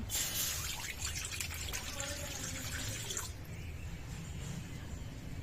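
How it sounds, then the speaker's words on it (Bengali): Water poured into a kadai on a lit stove: a loud, close, splashing rush for about three seconds, then a softer trickle and a faint background hiss. "কড়াইতে এবার দিয়ে দিব পানি।"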